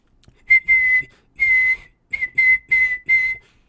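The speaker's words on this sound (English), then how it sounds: "At the very first blow of the whistle, he cringed and he snarled." A whistle blown in a series of about seven shrill, steady blasts, starting with two longer ones and ending in a quicker run of short toots. It sounds close and clear against silence.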